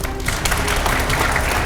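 Studio audience applauding steadily throughout on the set of a Hindi interview show, a dense, even wash of clapping that stays loud with no pauses.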